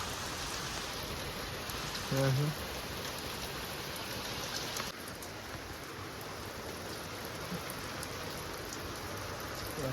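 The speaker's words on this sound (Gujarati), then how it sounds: "વરસાદ ધીમો ધીમો વધી રહ્યો છે" Faint, steady rain hisses throughout, a soft continuous wash of droplets heard from a distance with no voices.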